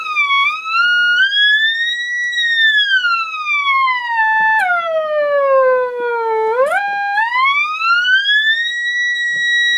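A loud pure test tone sweeping slowly up and down in pitch, steady and continuous for about ten seconds, with a couple of abrupt jumps, heard alone without talk.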